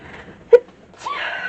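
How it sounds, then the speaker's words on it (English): A single short, sharp sneeze rings out in a sewing craft studio, followed by a soft vocal sound. "Don't cover my sneezes."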